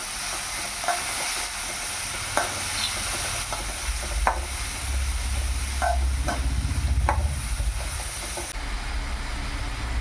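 Onion, green chili and garlic stirred and frying in a pan, a steady low sizzle with occasional scraping clicks from the spoon, close and continuous without any voices.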